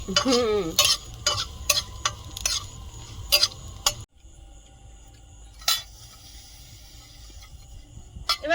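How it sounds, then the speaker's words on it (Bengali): Nigella seeds sizzling in a very hot wok, a soft frying hiss under sharp metallic scrapes and clinks of stirring, busy at first and sparser after a brief drop. "কড়াটা খুব গরম হয়েছে নামিয়ে নেব এবারে কালো জিরে দিয়ে দিচ্ছি"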